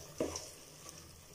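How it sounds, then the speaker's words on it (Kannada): Garam masala and biryani masala frying over a low flame in a pan, a soft quiet sizzle with one brief stirring scrape near the start. "ಲೋ ಫ್ಲೇಮಲ್ಲೇ 1 ನಿಮಿಷ ಈ ಗರಂ ಮಸಾಲ ಮತ್ತು ಬಿರಿಯಾನಿ ಮಸಾಲ ಹಾಕಿದ್ಮೇಲೆ 1 ನಿಮಿಷ ಹಾಗೆ ಫ್ರೈ"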